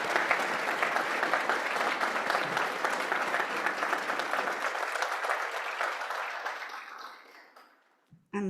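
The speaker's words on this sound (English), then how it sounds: "So let's give him another hand of applause, please." Audience applause after a talk at an indoor event, sustained clapping from a sizeable crowd that gradually thins and fades out over several seconds.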